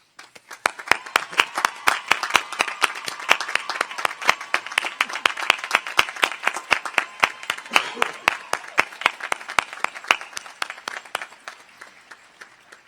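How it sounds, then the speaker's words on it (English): Sustained applause from a large audience at a college commencement ceremony, dense clapping with sharp individual claps standing out, steady for about twelve seconds before tapering off. "Please join me in a round of applause for this fine group of young women."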